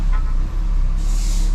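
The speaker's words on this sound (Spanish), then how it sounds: "Ahí ya está fallando el carro." A Mini Cooper engine with a misfire fault runs roughly up close, a loud steady drone with a brief dip and an airy hiss toward the end.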